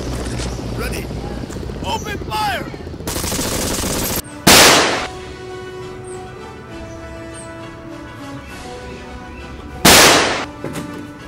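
Gunfire crackles in bursts amid noisy outdoor wind and rumble, with two loud sharp blasts standing out near the middle and end, while voices chatter through the background.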